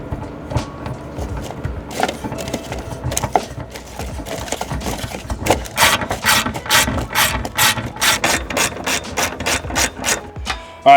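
A ratchet wrench clicks rapidly in repeated strokes while tightening half-inch bolts on the windshield brackets of a Kubota RTV X1140 utility vehicle, close and crisp, the clicking speeding up into dense bursts toward the end.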